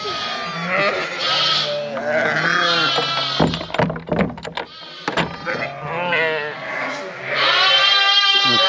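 Sheep and lambs bleat loudly and repeatedly in a livestock pen, several wavering calls overlapping near at hand, with a brief burst of rustling and knocking in the middle.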